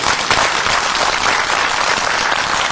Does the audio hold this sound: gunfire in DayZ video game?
no